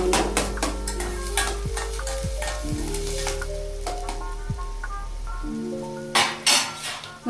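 Onions frying in hot oil in a pan for a drumstick and chana dal dish, steady sizzle with a spoon scraping and stirring against the metal, a few clinks near the end.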